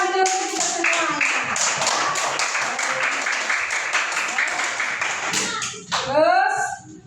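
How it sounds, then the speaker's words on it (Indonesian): A classroom of children claps hands together for several seconds, a dense, steady patter of many small hands close by, ending with some raised voices and cheering at the close. "tepuk tangan dulu untuk kita semuanya"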